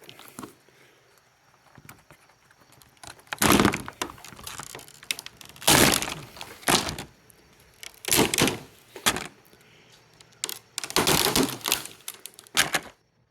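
Brittle plastic roofing panels on a bathhouse roof crack and snap in several bursts of sharp, crackling breakage, close and fairly loud, separated by quieter pauses with faint rustling.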